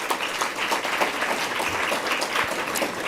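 An audience at a peace fellowship celebration event applauds steadily, a dense wash of clapping that holds throughout without spoken words.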